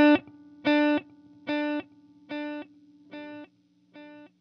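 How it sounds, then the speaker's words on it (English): Guitar through a TC Electronic Triple Delay TC2290-style digital delay: a short plucked phrase repeats in clean, evenly spaced echoes that grow steadily quieter, with no other sounds. "It's a very sought after, very good sounding digital delay."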